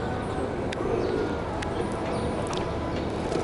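Pigeons at the Imam Ali shrine in Najaf coo low and steadily beneath a constant wash of crowd and courtyard noise, with faint chirps and short clicks scattered through.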